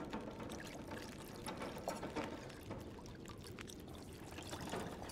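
Water pours steadily in the survival video game The Long Dark, a faint, continuous splashing rush with small clicking mechanical ticks mixed in, without any talk.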